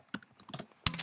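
Quick, uneven clicks of computer keys as a terminal command is typed, a short burst of close, soft keystrokes ending in a louder tap.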